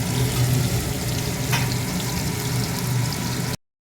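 Tangra fish fry in oil in a pan, giving a continuous close crackling sizzle with a faint low hum and a brief clink partway through, ending abruptly in silence.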